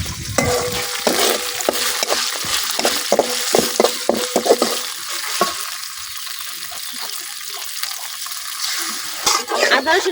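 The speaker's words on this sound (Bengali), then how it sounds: "আদা রসুনের বাটিটা ধুয়ে আমি অল্প একটু পানি দিয়ে দিচ্ছি।" Water poured into a sizzling chicken curry pan after rinsing the paste bowl, with clattering stirring strokes, a burst of hissing and splashing, then quieter simmering and a voice speaking briefly.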